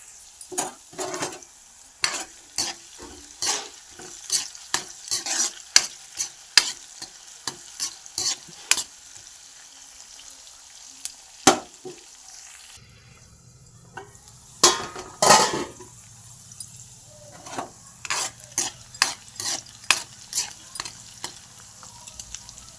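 Onions and okra frying in a pan for an ivy gourd curry, with repeated sharp spatula scrapes and clacks against the pan over a quiet sizzle, bursts of stirring separated by short pauses.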